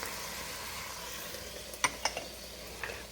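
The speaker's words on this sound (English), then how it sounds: "So now I'm going to go ahead and add the carrots. I'm going to add the peppers." Carrots and peppers dropped into a pot of beef stew, a faint steady sizzle with a few brief clinks and stirring knocks near the end.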